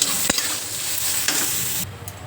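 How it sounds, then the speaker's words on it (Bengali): Soybean chunks frying in a pan with salt and turmeric, a continuous close sizzle broken by a couple of sharp stirring clicks, then dropping quieter near the end. "নুন হলুদ দিয়ে সোয়াবিনগুলো ভালো মতো করে ভেজে নেবো"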